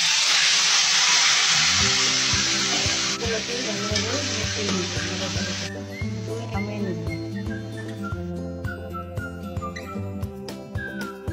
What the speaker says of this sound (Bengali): রসুনগুলো লাল হয়ে গেলে এবার দিয়ে দেবো শাক।